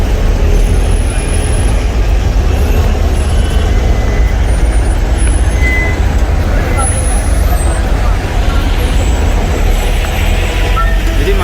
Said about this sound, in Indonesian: Jadi macet ya menuju ke Masjidil Haram di malam hari raya Idul Fitri seperti ini